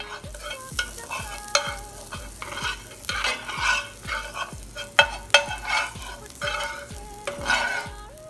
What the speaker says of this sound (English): Once melted, add 2 teaspoons of garlic, stirring it constantly until it changes the color.